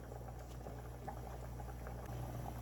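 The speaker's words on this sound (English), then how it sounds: "I'm going to go ahead and start to fry my fish" Fish frying in a pan with butter for a Jamaican fried fish dish, a steady close bubbling sizzle with soft scattered crackles that holds at an even level throughout.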